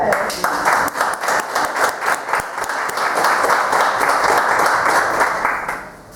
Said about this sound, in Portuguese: E um grande aplauso a todos, né?